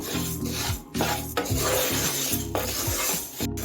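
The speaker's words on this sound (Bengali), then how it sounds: "দুয়ের থেকে তিন মিনিট ডালটা আমি ভেজে নিব" Moong dal, about 150 grams, dry-roasted over a high gas flame and stirred in a pan, giving repeated dry scraping, rasping strokes with short pauses between passes, close and fairly loud, with no talking.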